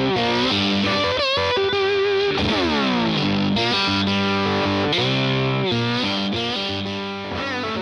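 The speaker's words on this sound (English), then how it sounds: "The flat 4 tube booster can be used as a mid boost, treble boost, and overdrive." A Vox Tone Garage Flat 4 tube booster pedal drives an electric guitar into warm overdrive, with sustained distorted chords and sliding bends ringing loud and continuous, alone without talk.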